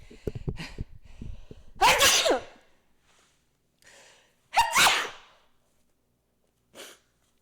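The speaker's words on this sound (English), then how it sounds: "1 second, I have to sneeze." A sharp sneeze bursts out after some background noise, followed by a second loud sneeze and a short faint sniff, each separated by quiet pauses.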